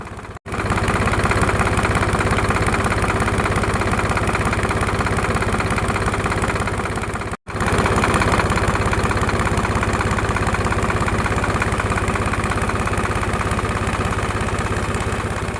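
A tractor engine powering an automatic pesticide sprayer with a 550-litre tank runs steadily and loudly, a close continuous drone with vibration that cuts out briefly twice, with no talking.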